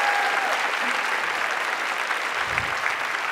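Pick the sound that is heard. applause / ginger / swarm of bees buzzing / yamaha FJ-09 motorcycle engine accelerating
applause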